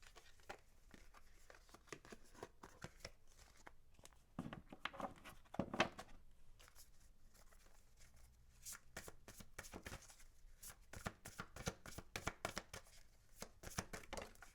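Affirmation cards being shuffled by hand, a run of crisp riffling and flapping bursts that come close and fairly loud in repeated waves, with a bigger flurry partway through and no talking.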